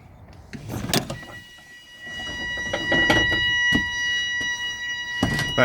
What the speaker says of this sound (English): That annoying noise when you open the doors from outside.